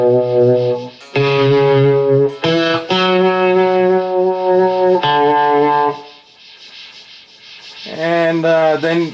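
Electric guitar played through a 66 chorus vibe plugin pedal in a virtual guitar rig: loud, sustained notes and chords with a swirling, wavering modulation ring out for about six seconds, fade to near silence, then return with bending, warbling notes.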